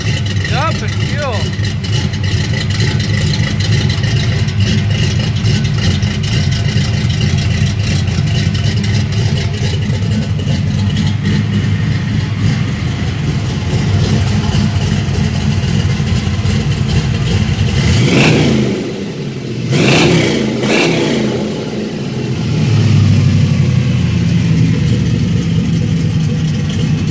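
Loud, close 1988 K5 engine on a new exhaust, running rich, idling with a deep rumble and then revving up in a couple of sharp bursts before dropping back to idle.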